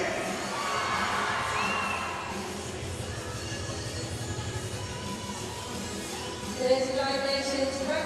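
Crowd at the European Artistic Gymnastics Championships in Glasgow cheers and applauds, a broad sustained roar in a large arena with a brief louder swell near the end.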